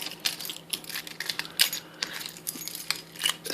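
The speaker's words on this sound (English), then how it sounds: "We have the best keys, and see how long these are?" A bunch of long metal keys jingles and clinks in a series of bright, irregular metallic chimes, close and fairly quiet, with short pauses between the shakes and no talking over them.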